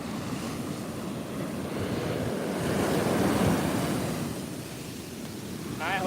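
Ocean surf washes against a Mexican shoreline in a steady, rumbling roar with gusts of wind buffeting the microphone, swelling louder midway before easing off.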